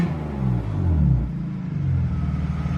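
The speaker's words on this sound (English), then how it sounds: "Just for finishing touches on this exhaust, I'll give you guys one little rev." A BMW E36 328i with a newly fitted exhaust gives a single short rev, its low engine rumble rising and settling over a few seconds, close and loud with no talking.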